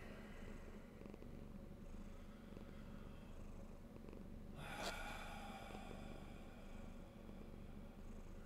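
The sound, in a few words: cat purring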